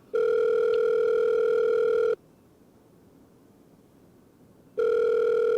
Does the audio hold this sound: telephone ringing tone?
yes